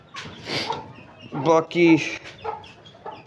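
Chickens and chicks cluck and chirp near the mic as they eat scattered feed, a few short calls mixed with a voice talking over them.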